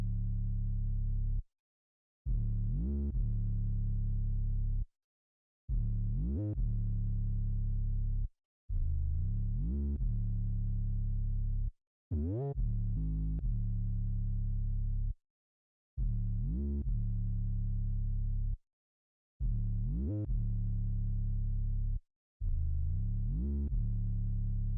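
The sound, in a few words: compressed bass with shorter release setting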